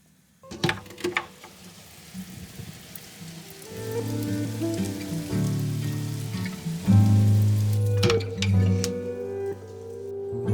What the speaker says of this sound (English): Is that hail?